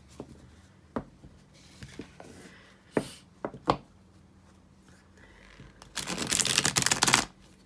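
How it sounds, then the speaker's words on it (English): A new Ophidia Rosa tarot deck being riffle shuffled by hand, with a few separate card taps and knocks at first, then a close, bright, fluttering rush of cards interleaving for about a second. "We'll give it a riffle shuffle and see how that goes."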